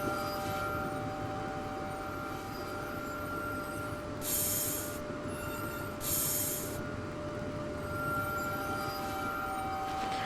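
A subway train runs in the game Rail Ultimate 2 with a steady, loud rolling rumble and a constant high wheel whine, and two short hissing bursts break in near the middle, with no voices.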